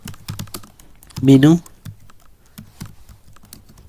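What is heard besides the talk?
typing Python code on a computer keyboard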